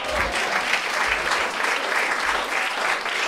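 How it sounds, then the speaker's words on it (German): A theater audience at a musical cabaret performance breaks into loud, sustained applause, a thick, continuous roar of many hands clapping that holds steady with no talking over it. "das ist mal ein Applaus"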